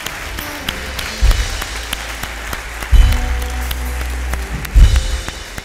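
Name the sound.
applause for the Lord in church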